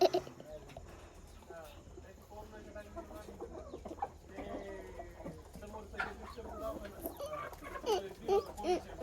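Chickens cluck and chatter in a nearby backyard coop beside a home garden, with scattered soft calls throughout and people talking over them.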